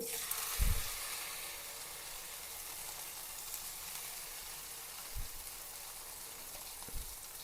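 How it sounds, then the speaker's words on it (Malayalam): Salted fish pieces frying in a pan, a faint, even sizzle with a few soft knocks from the pan and no talking. "ഇപ്പോൾ 2-3 കഷ്ണം മീൻ വറുക്കാൻ പോണേണ് ഞാൻ"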